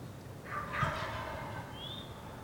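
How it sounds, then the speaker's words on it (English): A faint, distant wild turkey gobble rattles once through quiet outdoor ambience on Missouri public land, followed by a thin, high bird call. "Turkeys are just over top the ridge right there."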